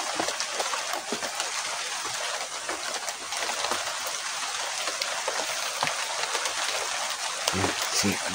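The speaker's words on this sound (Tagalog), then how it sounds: "Eh, kita nyo naman ulan, no?" Steady rain falling in a quiet rural outdoor spot, a continuous hiss of drops with occasional sharper drips close by, fairly soft, while someone talks over it.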